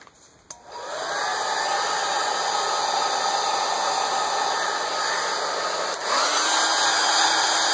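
A hair dryer blows steadily on a watercolor painting being dried, switching on sharply after a brief click and running as a loud, continuous whir with a slight dip and pitch shift near the end.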